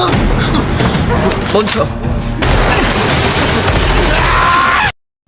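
Gunfire rings out in a tense operating-room shootout between armed men around a doctor, loud dense bursts and booms filling the scene over a shouted voice before cutting to sudden silence.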